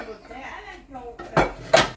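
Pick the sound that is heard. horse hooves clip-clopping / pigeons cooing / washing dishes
washing dishes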